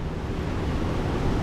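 Ocean waves and strong wind during a typhoon make a dense, steady roar of surf and gusting air, loud and continuous across the whole moment, with no voices.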